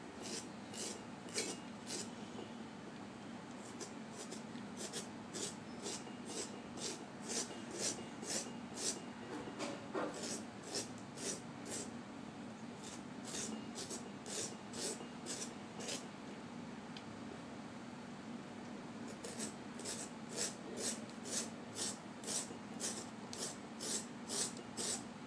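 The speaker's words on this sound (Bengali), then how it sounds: "আমি এভাবে করে পুরা পেঁপেটাই এই কুড়ানিটা দিয়ে করে নিচ্ছি।" A raw papaya is grated by hand on a traditional scraper, making quick, even rasping strokes in long rhythmic runs with short pauses between them, close and clear with no talk.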